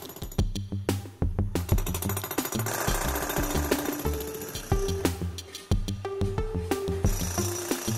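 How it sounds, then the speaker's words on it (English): Jackhammer breaking up a concrete basement floor near the wall, a loud, close, continuous rapid hammering with a rattling metallic ring and a few brief pauses, no voices. "break up the floor about 12 to 18 inches away from the wall around the perimeter of the basement"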